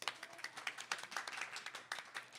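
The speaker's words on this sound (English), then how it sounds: "We can even applaud for ourselves, the incredible live audience." A small live talk-show audience claps in a faint, uneven patter of individual hand claps, scattered and fairly sparse over a couple of seconds.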